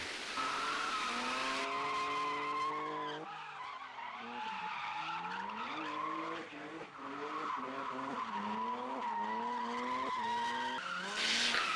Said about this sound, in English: You've got people that have been drifting for years, like Kev here